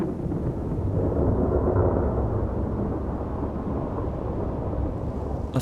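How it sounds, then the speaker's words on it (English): Loud, rolling thunder rumbles through a thunderstorm with gusty wind and heavy rain, a deep continuous roar that swells and holds for several seconds with no voices. "A thunderstorm can bring gusty winds and large raindrops."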